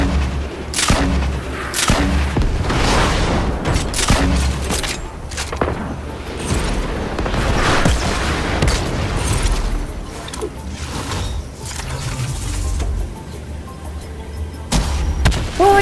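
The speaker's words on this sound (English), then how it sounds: "Even with the quad launcher, guys, I still can't hit my rocket launcher shots." Rocket fire from a quad launcher in Fortnite: repeated booming launches and blasts with no break across the whole stretch, loud and dense, with explosion rumble overlapping each shot.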